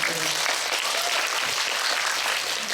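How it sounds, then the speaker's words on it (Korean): Sustained applause from an audience at a cinema talk event, dense and steady clapping filling the room for the whole stretch with no voices over it. "박수 한번 부탁드릴게요"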